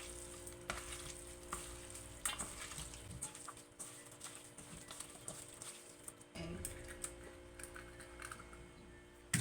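Potatoes, onion and salt stirred together in a pan, giving a steady, close scraping and sizzling texture with soft clicks and knocks throughout, no voices over it.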